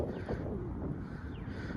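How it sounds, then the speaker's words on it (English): Steady low rumbling wind buffeting a microphone outdoors, continuous and fairly loud with no talking. "We gotta do it quick because it's windy."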